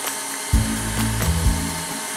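Stand mixer with whisk attachment beating lime pie filling, a close, steady motor whir that starts abruptly and runs with slight surges and wobbles in pitch.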